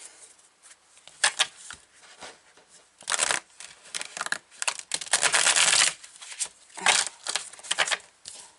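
Tarot cards from a slightly stiff deck being shuffled by hand, bursts of riffling and rubbing swishes that come in uneven waves, close and fairly loud, with no talking.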